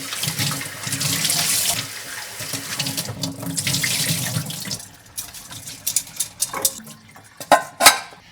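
Tap water runs steadily as food is washed under it in a sink for several seconds, then stops, followed by scattered clinks and clatters of dishes and utensils.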